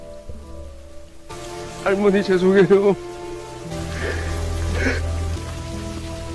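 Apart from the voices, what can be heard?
heavy rain pouring outside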